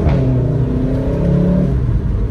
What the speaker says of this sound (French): vous avez entendu le changement de rapport, elle a pété là